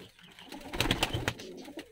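Fighting pigeons in a dovecote in Georgia coo in a close, throaty burst, several overlapping rolling calls swelling and then tapering off.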